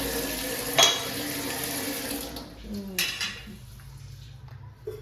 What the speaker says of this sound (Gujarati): ગ્લાસ વીછળીને મૂકી દો.